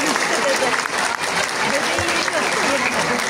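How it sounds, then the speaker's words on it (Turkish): Audience applause at a school chess tournament award ceremony in Üsküdar, a dense, steady wash of clapping from a crowded hall that holds at full strength throughout without pause. "Alkışlarla sahneye geliyor."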